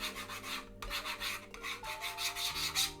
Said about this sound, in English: I really hate the sound of like knitting needles rubbing on my table